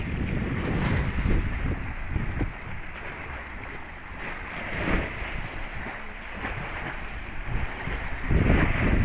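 Strong sea waves surge and slap around a boat near a stone pier in Mindoro, rising and falling in heavy, close swells mixed with gusty wind buffeting the microphone.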